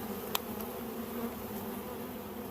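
Honeybees buzz at a hive entrance as a pollen-laden forager returns, a continuous close, even hum with a faint tick or two and no voices.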